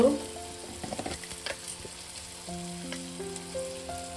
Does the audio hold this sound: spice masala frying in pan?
yes